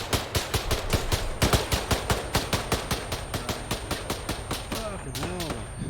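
Rapid automatic gunfire in a military video game: loud, close bursts of evenly spaced shots that keep up steadily, with a voice briefly heard near the end.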